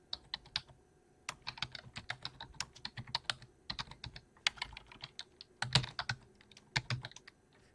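Rapid bursts of keystrokes on a computer keyboard as an npm install command is entered, clattering in irregular clusters with short pauses, close and moderately quiet with no talking.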